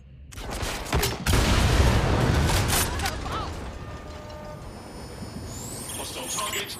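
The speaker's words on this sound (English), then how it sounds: "Do you hear gunfire?" Dense, rattling bursts of rapid gunfire with mechanical clattering in the video game Watch Dogs: Legion, loud and close, with a voice talking over the din.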